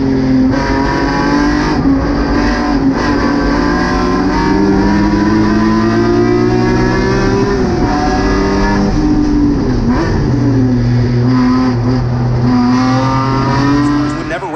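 GT4 and TCR race cars thunder around Gingerman Raceway, with loud, sustained engine drone and shifting revs from several cars close by throughout, their pitch rising and falling as they accelerate and pass.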